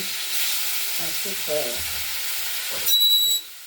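Rohu fish pieces fry in a pan with a constant sizzle. A few faint low tonal sounds drift in partway through, and a brief high-pitched beep sounds near the end.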